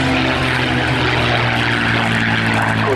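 A Supermarine Spitfire Mk9 flying at the Eastbourne airshow gives a loud, continuous propeller-engine drone with a steady low throb, holding constant for the whole stretch with no voices.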